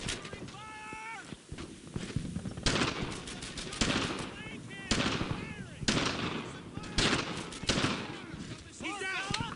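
World War II gunfire in the video game Brothers In Arms: Earned In Blood, repeated bursts of rifle and machine-gun shots mixed with shouted soldier voices and footsteps, loud and continuous.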